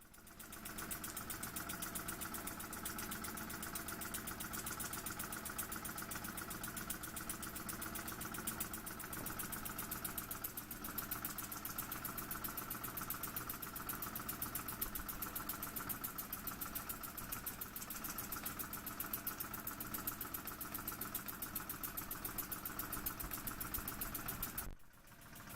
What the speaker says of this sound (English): when an engine runs on steam and it runs quiet like that